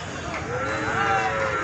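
Cattle low at a busy, dusty livestock market, a drawn-out moo rising over the crowd's steady background murmur.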